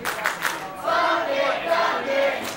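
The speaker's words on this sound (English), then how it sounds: "crowd not supportive of Kevin Ducqets right now with their popular chant" A wrestling crowd at a Christmas special event chants in unison against Kevin Ducqets, a steady rhythmic roar of many voices filling the arena, fairly loud and continuous throughout.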